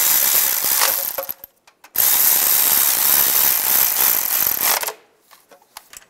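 A power ratchet tightens the starter bolts on a 2007-2013 Chevrolet Silverado, two loud close bursts of whirring and clicking with a short gap between them, then quieter handling clatter at the end.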